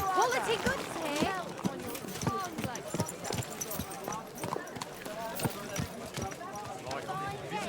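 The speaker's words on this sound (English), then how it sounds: "Is this your first time riding a horse" Horse hooves clip-clop in a steady trotting rhythm during riding in Kingdom Come Deliverance II, close and clear, with voices talking over the hoofbeats throughout.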